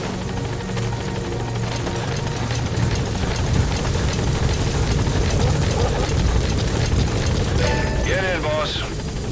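A support helicopter in Metal Gear Solid V arrives with loud, continuous rotor thrum and engine whine that holds steady throughout, with a brief radio-style voice breaking in near the end.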